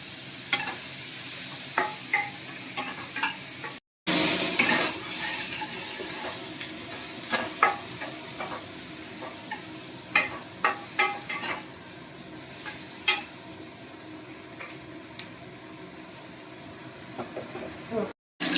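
Onions dropped into hot oil in a home kitchen pan, a loud burst of sizzling that settles into steady frying with scattered clinks and stirring knocks, close up, briefly cut by a short gap.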